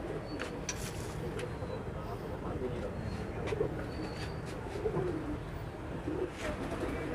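Soft pigeon cooing rises over a busy outdoor background, with occasional chirps and faint voices nearby.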